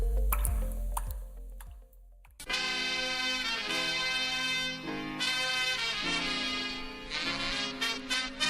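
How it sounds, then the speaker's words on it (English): Water dripping: a few separate, hollow drips plop one after another at the start before music takes over and fills the rest. "One drip every second adds up to 5 gallons per day."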